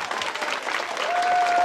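Audience at a children's music festival clapping together in a sustained, even burst of applause that swells slightly toward the end.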